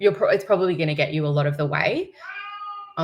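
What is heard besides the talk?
cat meowing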